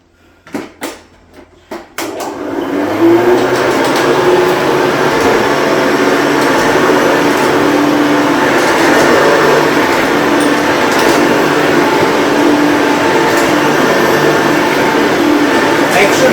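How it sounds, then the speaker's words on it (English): Bissell Revolution Pet upright vacuum cleaner running on carpet: a few clicks and knocks at the start, then the motor starts up into a loud, steady, close whine and roar that holds unbroken to the end. "I'm just going to vacuum the carpet"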